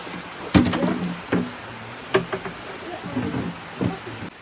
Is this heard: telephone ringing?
no